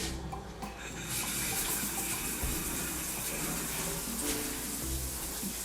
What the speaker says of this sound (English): The final step here will be to turn on the shower, wash it down